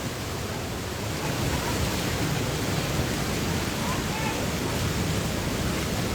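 An overflowing river in Ambuklao, Barangay Ibayo, rushes during prolonged heavy rain, a dense, steady roar of churning water that holds level throughout with no pauses.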